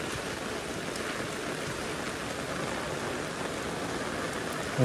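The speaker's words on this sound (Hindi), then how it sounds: "अभी भी पूरा बारिश दे रहा है दोस्तों।" Heavy rain pours steadily, a dense, even hiss of drops hitting surfaces with no voices.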